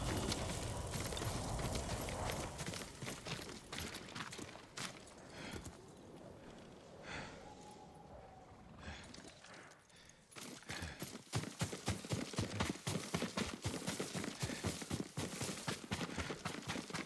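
A horse in the Ghost of Tsushima game clip-clops along, hooves thudding steadily, then a quieter stretch with a soft snort before brisk, louder hoofbeats return.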